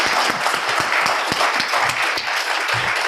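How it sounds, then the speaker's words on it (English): An audience applauds a debate panel at the close of a discussion, with loud, sustained clapping from a room of people and individual sharp claps standing out near the front throughout. "Can we give our panel a round of applause?"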